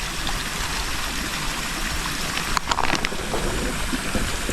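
Steady broadband rush of a flowing river near a rice-field area, continuous and fairly close, with a brief splashing burst midway.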